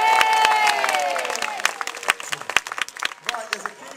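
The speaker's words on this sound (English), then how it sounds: "can we give them a big cheer to drive them on?" A crowd at the Warwick Castle trebuchet cheers and claps for volunteers. Voices swell briefly, then give way to scattered, fading applause with sharp individual claps.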